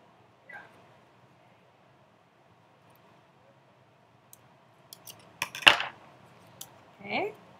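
Scissors snip through paper while a tessellation design is cut out, a few short crisp cuts arriving close together near the end, with quiet room tone and small handling noises before them.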